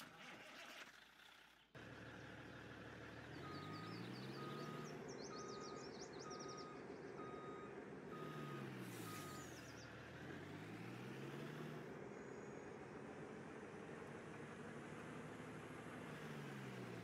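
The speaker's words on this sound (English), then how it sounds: "We gotta go grab our dump truck." Dump truck in Farming Simulator 19 on a mining map, engine droning steadily while a repeating reversing beep sounds at an even pace, with some chirping in the background.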